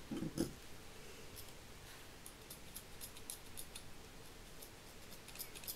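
Scissors snip through a strip of craft material for a Santa jacket card, a single quick close cut at the start followed by faint scattered ticks over quiet background hiss.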